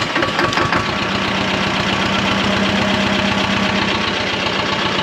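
A Belarus 250AS (HTZ T-25) Russian tractor engine idles loudly and close at a steady speed, with a rapid rhythmic knocking pulse throughout as it warms up after repair.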